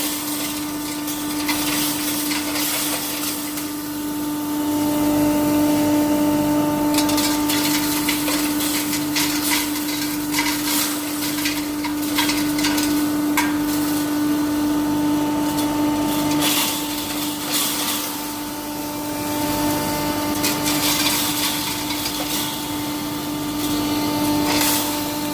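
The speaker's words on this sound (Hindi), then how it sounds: "मशीन चालू हो चुका है, क्योंकि हम सबसे पहले मिक्स मसाला ग्राइंडिंग करने वाले हैं।" A pulverizer flour mill machine grinds mixed spices with a loud, continuous whining drone and a steady mechanical tone, its roar swelling and easing slightly as material is fed in.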